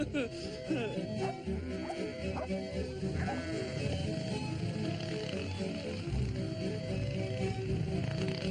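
Sheep on an island hillside bleat repeatedly in the distance over a steady outdoor background, with a dog barking now and then.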